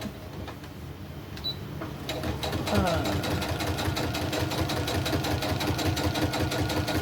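A sewing machine runs continuously while stitching a crazy crumb quilt block, a rapid, even mechanical chatter close by, with a person talking over it.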